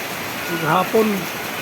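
Heavy rain pours in a steady, dense hiss while a voice speaks briefly over it.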